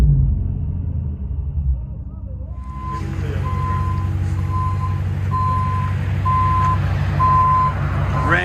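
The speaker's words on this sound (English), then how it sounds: "it's got the backup sound. You know, it's gonna be a tractor trailer one" Backup beeper on a Ram Power Wagon 6.4L Hemi V8 with muffler and resonator deleted, heard from inside the cab: a steady string of evenly spaced beeps over a deep, continuous engine rumble.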